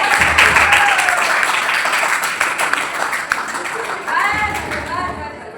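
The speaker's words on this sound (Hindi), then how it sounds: "ताली हो जाएगी सबकी।" A classroom of trainee teachers bursts into applause during a simulated lesson, dense rapid clapping from many hands that thins out midway, then a second burst before fading.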